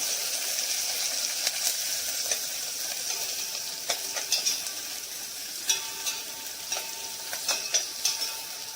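Onion and curry leaves frying in a pan while being stirred, a steady sizzle with repeated scraping and clacking strokes of a spoon, close and moderately loud, no talking.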